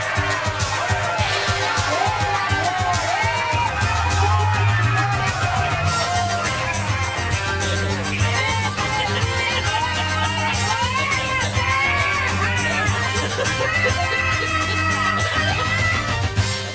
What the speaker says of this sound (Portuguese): depois de toda essa gritaria